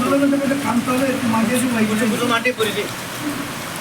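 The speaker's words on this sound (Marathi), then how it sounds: "पाऊस फुल चालू" Heavy rain pours steadily as a broadband hiss at a school where people have stopped to eat, with talk running over it throughout.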